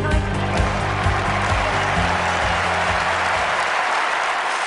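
A stadium crowd applauds in a London 2012 Olympic video game, a dense, steady roar of clapping that holds at an even level throughout with no voices on top.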